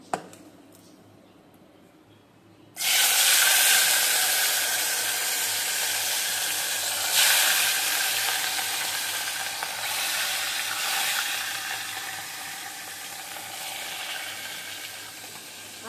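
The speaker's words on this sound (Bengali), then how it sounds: "এই তো এখানে মাছ ভাজা হয়ে গেছে" Fish rubbed with salt and turmeric hits hot oil in a pan after a quiet moment, bursting into a loud, close sizzle that continues steadily and eases slightly.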